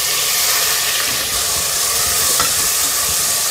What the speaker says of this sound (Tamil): போட்டு நல்லா வதக்கி விடுவோம்.